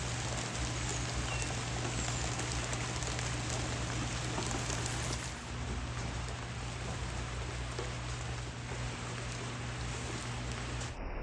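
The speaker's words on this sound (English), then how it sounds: "It's just rain and rain and rain." Steady rainfall in a backyard during severe winter weather, a continuous even patter and hiss that holds throughout without voices.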